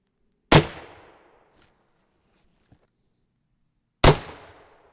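Two loud, close gunshots from a 300 Blackout rifle firing 150-grain Speer Gold Dot rounds, each a sharp crack with a short decaying tail, spaced about three and a half seconds apart, outdoors with no talking.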